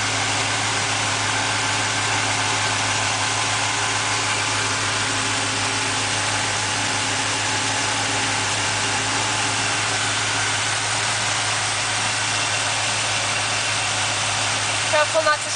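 A 1972 car engine idles cold with a steady, even drone under an open hood, close and loud, holding constant throughout with a faint click at the very end.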